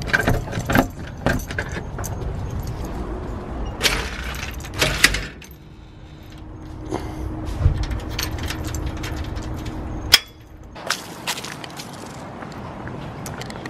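Keys jangle and rattle in short bursts while a front door is locked before leaving for a music festival, with scattered clicks, a latch thud and soft background hum between the metallic jingles.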